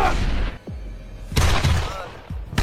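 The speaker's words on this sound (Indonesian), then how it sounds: "aksi baku tembak pun akhirnya terjadi" A movie shootout in which gunmen with long-range rifles open fire: sharp, loud shots crack out in separate bursts, one early and a heavier cluster toward the end, each with a booming echo.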